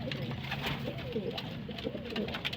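Pigeons in a racing pigeon loft coo in low rolling calls that repeat throughout, quiet and close amid a faint background hum.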